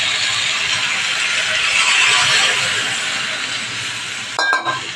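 Water poured into a pan of chicken and potatoes cooked down in spices, a loud steady hissing rush and sizzle that fades toward the end, then a brief clatter of a utensil, close, no talking.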